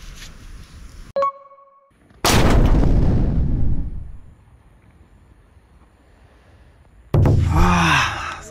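Fireworks at a seaside campsite in Toba: a brief tone, then a loud booming burst that trails off into a long rumbling decay, followed by another sudden loud blast near the end.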